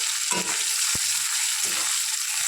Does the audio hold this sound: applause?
no